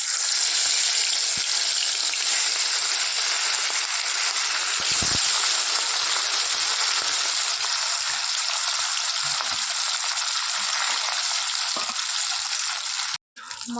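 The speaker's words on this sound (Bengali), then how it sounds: "মাছ ভাজা হয়ে গেছে" Fish frying in hot oil with a steady, loud broadband sizzle that runs nearly unbroken, cutting off abruptly near the end.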